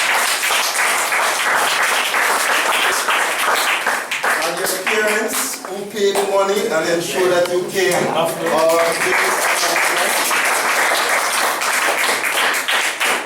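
Audience applause at a 2015 camp closing ceremony, a steady wash of clapping running the whole stretch while a speaker keeps talking over it.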